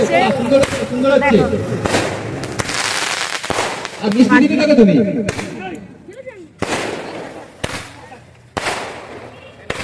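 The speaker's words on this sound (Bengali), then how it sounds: "এখানটা দেখো বাজি ফাটানো হচ্ছে" Firecrackers burst at an outdoor Christmas celebration at a village club, sharp loud cracks coming in quick clusters and then scattered single bangs, while people talk and shout close by.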